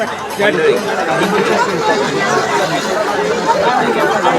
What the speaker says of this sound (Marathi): तर संध्याकाळी जत्रा पण खूप गर्दी आहे